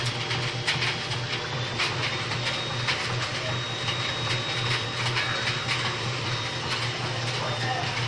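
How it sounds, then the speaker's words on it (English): Household vacuum cleaner running nearby, a steady mechanical hum with a rough, rushing airflow roar and a faint high whine throughout, under occasional soft background voices. "my daughter's vacuuming"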